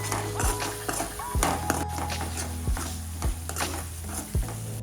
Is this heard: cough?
no